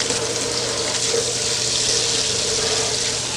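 A kitchen tap runs a steady stream of warm water, filled to help a hypothermic breeding duck during a rescue; the flow stays continuous and fairly loud throughout, with no voices.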